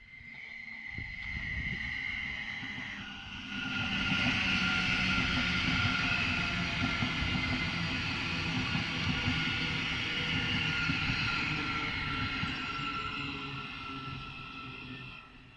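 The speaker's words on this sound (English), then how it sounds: "I'll just let this train come in. This is 717" A Class 717 electric train, unit 717 003, pulls into Hadley Wood station on the East Coast Main Line, giving a steady rolling rumble with a high motor whine that swells as it arrives and holds near and loud.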